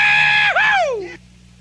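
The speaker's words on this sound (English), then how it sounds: "let's have a good old rebel yell from the birthday table." A birthday-table crowd at a Chuck E. Cheese's pizza restaurant gives a loud rebel yell: one high, strained cry that slides downward over about a second, then cuts off into a low hum of room noise.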